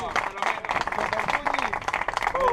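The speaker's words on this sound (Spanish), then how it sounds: "Y un aplauso también al cuñado." A small crowd at a karting championship awards ceremony in San Javier, Murcia, claps in lively scattered applause for a trophy winner, while people talk and call out over it.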